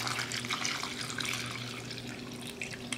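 Water pours steadily into a slow cooker set on high as 8 cups are added for homemade beef stew, a continuous close splashing fill with no talk.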